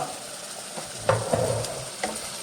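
Chopped onion sizzles in a hot pan while being fried for a sprouted moth bean stir-fry, a steady close crackle with a few louder stirring scrapes and clinks, no talking.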